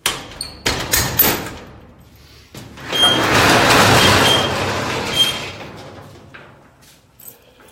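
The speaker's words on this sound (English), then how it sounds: "Let's open some bigger doors" Large doors at a training space are handled: a few loud clunks and thumps, then a long rumbling slide that rolls on for several seconds before fading, with more knocks at the end.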